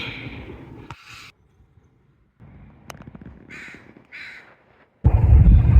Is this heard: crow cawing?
yes